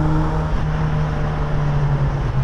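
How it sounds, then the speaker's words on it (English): Mazda Miata NC breathing through a Flyin' Miata exhaust, a steady, close engine drone with a deep low resonance held evenly throughout, no voices. "let you just enjoy pure exhaust note from this car from different angles inside and out"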